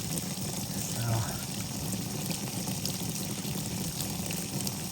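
Water runs steadily into a 45 mil EPDM pond liner, a constant broadband wash of pouring and splashing that holds at the same level throughout.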